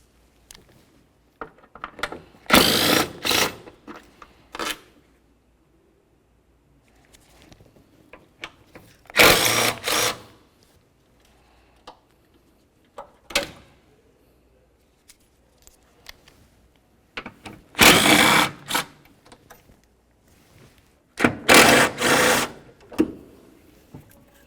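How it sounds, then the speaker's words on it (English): A power tool spins out the four 10 mm headed bolts holding the wiper transmission on a 2003-2007 Honda Accord, in four loud, close whirring bursts separated by quieter handling noises. "Let's continue on to removing our 4 10mm headed bolts that are holding the wiper transmission in place."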